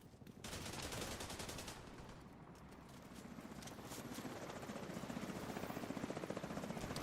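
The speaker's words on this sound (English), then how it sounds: "Helicopter." A helicopter in the shooter game The Division 2, its steady rapid rotor chop loud and continuous, with brief gunfire crackling in the mix.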